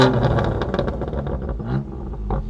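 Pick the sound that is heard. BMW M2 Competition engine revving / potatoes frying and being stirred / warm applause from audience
BMW M2 Competition engine revving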